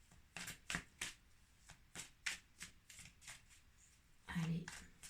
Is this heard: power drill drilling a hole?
no